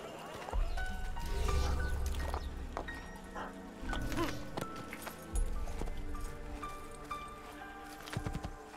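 Horse hooves clop steadily in Assassin's Creed gameplay, with neighing and whinnying mixed among layered game sounds and music, moderately loud throughout.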